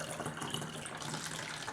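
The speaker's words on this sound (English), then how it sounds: "I'm going to fill it up about halfway with water." Water runs from a tap into a bottle, filling it partway through a funnel; a soft, steady gushing trickle, fairly faint and continuous, with no talking.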